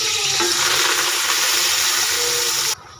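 Steady, dense sizzling of onions frying in a hot pan, loud and close, running continuously before cutting off abruptly near the end.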